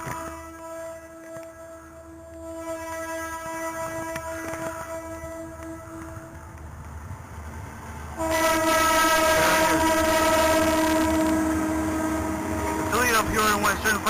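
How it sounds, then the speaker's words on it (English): A Peoria Western freight train of about 10 cars rumbles past close by near Eureka, Illinois, its horn sounding in long blasts before the loud clatter of cars rolling through. "Peoria Western freight train."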